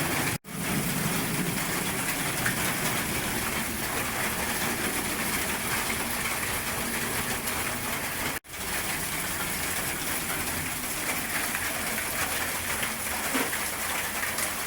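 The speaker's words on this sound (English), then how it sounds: "Nice rainy day." Steady rain on a wet day outdoors, a continuous even hiss of falling drops that holds level throughout, with two brief dropouts and no voices.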